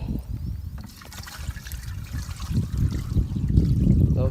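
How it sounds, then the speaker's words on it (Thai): Water is poured into a container to mix flake fertilizer for spraying rice, a close, continuous trickling and splashing pour that grows louder toward the end. "ก็เติมน้ำอีกนิดนึงครับ"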